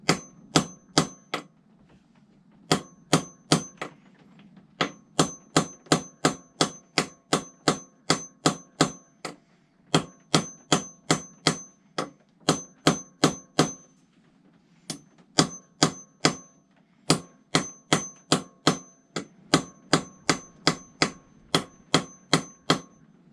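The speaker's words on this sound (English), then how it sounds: "now using the old bearing race, just trying to get it all the way down" Steady metallic hammer strikes ring out in quick rhythmic bursts, each clanging hit bright and close, with short pauses between groups, as an old bearing race drives a bearing onto a Kawasaki ZX10 motorcycle steering head.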